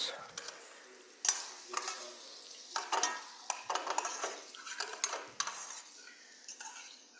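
Lamb pieces browning in a pan with onions and caramel sauce, giving a steady sizzle broken by repeated stirring scrapes and clinks of a utensil against the pan, close and moderately loud.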